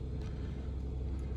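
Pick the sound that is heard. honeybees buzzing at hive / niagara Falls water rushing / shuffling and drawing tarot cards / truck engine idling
truck engine idling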